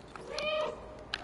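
A cat meows in the video game Stray, one short moderately quiet call over a faint game ambience with a couple of light clicks.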